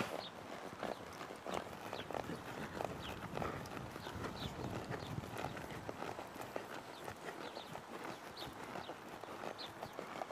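A horse trotting through loosening-up warm-up exercises in an arena, steady rhythmic hoofbeats at moderate distance, soft and continuous under a muffled background.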